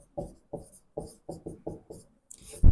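Chalk or marker writing on a board in a lecture setting, making a series of about seven short rhythmic scratching strokes, close and distinct, ending with a louder knock or tap.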